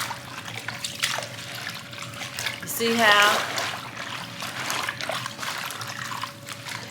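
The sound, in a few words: tap water running while washing turnip greens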